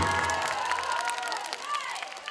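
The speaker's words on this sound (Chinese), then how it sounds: "掌声欢迎" Applause and cheering from a crowd, including children's shouts, welcoming a popping dance performer at a school show, sustained and fairly distant, with the noise dropping off slightly toward the end.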